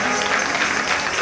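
A crowd at a Sundarkand recitation gathering applauds to welcome the village head, a dense, steady wash of clapping throughout with no breaks.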